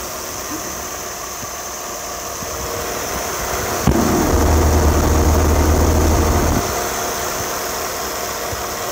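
A car engine idles steadily throughout with a constant hum and a faint squeal; a click midway brings a louder, lower rumble for a few seconds before it settles back to a plain idle.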